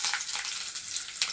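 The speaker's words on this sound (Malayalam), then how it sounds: "നമുക്ക് ഈ എണ്ണയ്ക്കകത്ത് തന്നെ ചെറിയ ഉള്ളി അരിഞ്ഞതും പച്ചമുളകും കൂടെ വഴറ്റാം" Small chopped onions and green chillies sauté in hot oil in a pan, giving a steady, close, moderately loud hiss and sizzle that runs throughout without any talking.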